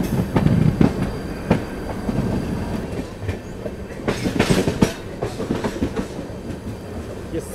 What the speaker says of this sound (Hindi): ये साउंड ट्रैक बहुत ज़बरदस्त है ट्रेन का, मुझे बहुत पसंद है ट्रेन का साउंड ट्रैक।